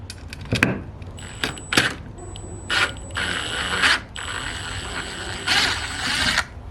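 A ratchet clicks in quick bursts as it turns a 1/2 inch universal socket on a stripped fastener, with sharp metallic pawl ticking close to the microphone, some spurts longer than others, and no talk.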